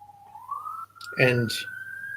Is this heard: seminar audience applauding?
no